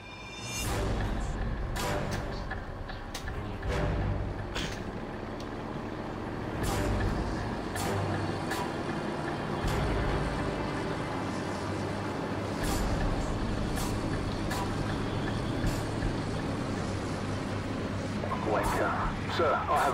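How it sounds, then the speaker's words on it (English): An enemy vehicle convoy of six trucks approaches in Call of Duty 4: Modern Warfare, a heavy continuous engine rumble with hissing air-brake bursts, under radio chatter. "We're tracking an enemy convoy headed your way. I count 6 vehicles in the convoy, over."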